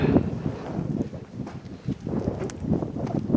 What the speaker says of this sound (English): that wind's still a little cold this morning